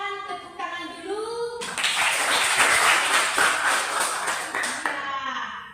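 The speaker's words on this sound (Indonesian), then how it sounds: "Tepuk tangan dulu." A teacher speaks briefly in Indonesian, then a class of schoolchildren breaks into dense, sustained applause for several seconds before it fades out.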